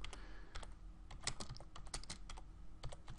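Quick, crisp keystrokes on a computer keyboard as a search is typed into Google, a steady run of close, clicky taps with no talk.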